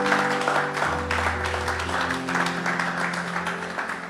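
A church congregation applauds at a pastor's session, a dense, sustained round of clapping filling the room throughout, with a faint musical drone underneath.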